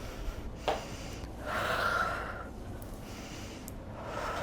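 Deep breaths are taken during a stretching workout: a sharp inhale, then a longer, audible exhale through the nose and mouth, close to the microphone, with no speech.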